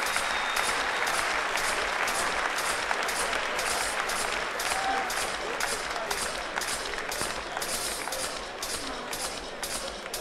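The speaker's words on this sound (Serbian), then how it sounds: "Michela, zamolio bih vas za jedan aplauz za momka koji nam stiže iz Holandije." Audience applause at a Serbian Battle Championship fight event fills the arena, a dense, sustained clatter of many hands clapping that holds steady for the whole stretch before easing slightly near the end.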